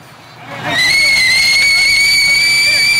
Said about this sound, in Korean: 휘파람 소리입니다.